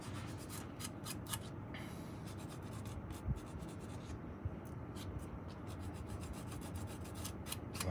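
Sandpaper rubbed over tape on a saxophone neck cork area, a steady close scratchy rasping that runs continuously with small bursts and no talk.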